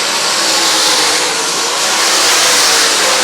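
Modified race cars roar around a dirt track during a USMTS event at LA Raceway, a loud, steady broadband engine wash with revving that rises slightly, no voices.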